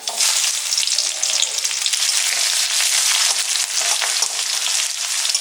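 Chopped onion frying in mustard oil, a loud continuous sizzle with stirring scrapes and crackles layered throughout.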